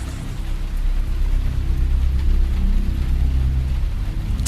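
Steady, dense roar of heavy rain with a deep low rumble of thunder rolling underneath, continuous and fairly loud throughout.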